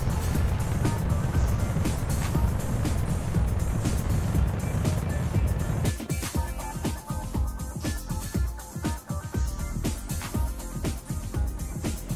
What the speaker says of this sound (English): Here we are on the launch pad, yet again, launching yet another rocket.